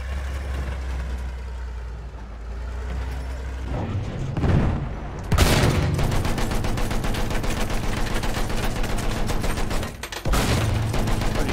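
Battlefield 1 gunfire rings out in a dense, loud stretch of rapid shots and bursts after a low engine idle, with a brief lull near the end before the firing resumes.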